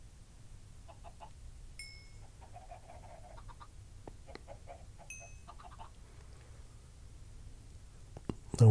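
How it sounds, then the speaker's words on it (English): Chickens in the video game Minecraft give a few short, faint clucks and chirps over a quiet low hum. The sounds are scattered and well apart, and a sharp click near the end breaks the calm. "And there's my chickens."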